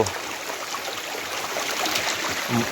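Dammur Falls flowing in full spate, a steady broadband roar of rushing water holding constant and fairly loud throughout, with no voices.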